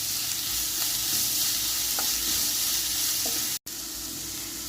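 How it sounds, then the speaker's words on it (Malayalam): Sliced onions sautéing in coconut oil in a pan, a steady bright sizzle that runs throughout with a few faint stirring taps, close and continuous, briefly cut off near the end. "ഇനി ഇതിലേക്ക് 2 സവോള അരിഞ്ഞത് ചേർത്ത് കൊടുക്കാം. ഇനി ഇത് നന്നായിട്ട് വഴറ്റിയെടുക്കാം."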